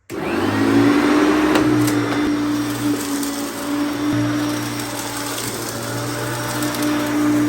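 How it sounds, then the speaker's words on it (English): A 1996 Hoover Turbopower 1 vacuum cleaner runs close and loud, a steady whining motor drone that holds from start to finish with no voices. "The Hoover Turbopower 1 is what I'm going to be using today."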